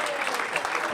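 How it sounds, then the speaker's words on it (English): A conference audience gives a brief burst of dense, close applause, steady clapping filling the moment without a break. "let's have a round of applause as you do it"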